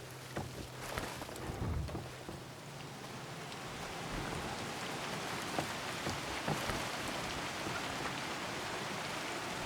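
Steady rain hiss in the video game Gord, a continuous broadband wash of falling rain with scattered drop ticks, fairly even in loudness throughout, with a faint low hum early on.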